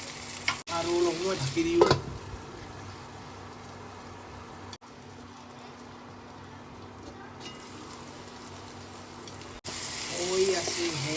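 Tomato, radish, potato and pork sizzle and fry in a pan, a steady close crackle that runs throughout under a speaking voice, with brief stirring and lid clatter at the start and end.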